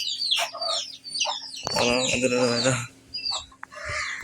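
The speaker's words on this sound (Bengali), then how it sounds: "এই যে মুরগি" Several chickens cluck in short bursts, with a longer, louder squawking call in the middle; the calls are close and loud against a faint low hum, and no one speaks.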